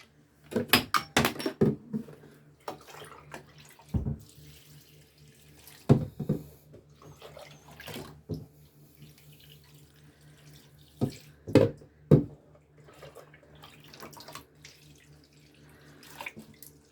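Water runs from a tap into a sink where plants are set to soak, with splashing, clunks and drips coming in irregular bursts, close by, no talking.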